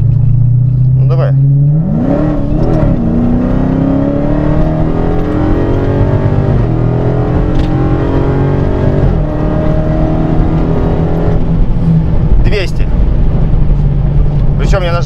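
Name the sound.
Dodge Challenger Hellcat accelerating on an airfield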